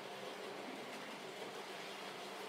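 A model freight train engine, number 4266, runs along its track with a steady, faint rolling rumble and soft wheel noise that holds evenly throughout.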